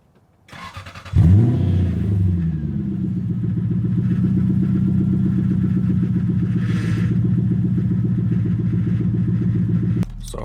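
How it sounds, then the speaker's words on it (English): Lexus SC400 with resonator and muffler delete exhaust cold-starting: a brief crank, then the engine catches into a loud, steady, throaty idle that holds for several seconds before cutting off abruptly. "So hopefully you guys just heard that cold start right now, and that's just with a resonator and muffler delete."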